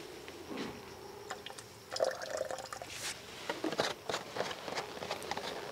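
Clean water is poured into a container to dilute orchid fertilizer, a faint, uneven trickle and splash with soft drips and a few handling knocks, close by and quiet.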